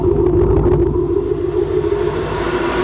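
A 1996 Ford F-250 truck engine idles close by with a starter that may be wearing out, giving a loud, steady low rumble with a constant hum throughout and no talking.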